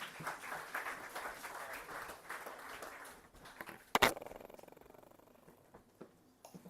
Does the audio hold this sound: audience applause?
yes